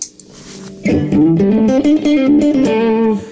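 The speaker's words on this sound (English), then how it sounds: "So if you were to do it like the low pass" Electric guitar through an Empress Effects Multidrive overdrive with a low-pass filter, muffled and dark in tone, a short phrase of sustained notes after a quiet start, no talking.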